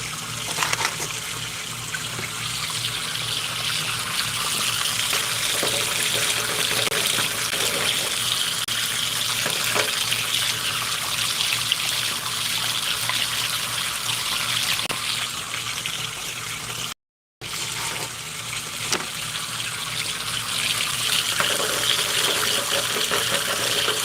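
A garden hose runs water into a bucket, a continuous loud gushing and splashing that holds steady for over twenty seconds, broken only by one brief dropout near the end.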